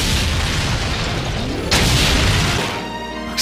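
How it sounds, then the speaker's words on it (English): A loud, broad explosion-like boom bursts out over a dense noisy rumble, then fades into a ringing decay. "I don't remember any explosions in Bambi"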